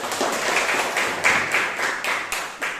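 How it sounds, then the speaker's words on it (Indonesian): A school class claps hands together in a brief round of applause, a steady close patter of many palms with no talking over it. "Tepuk tangan untuk kita semua."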